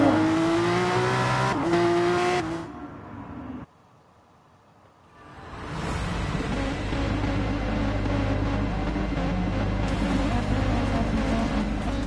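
Race cars in a racing video game, engines droning and revving loudly with a whining pitch, a short drop to near quiet midway, then a steady roaring pack of cars through to the end, with game music and effects layered in.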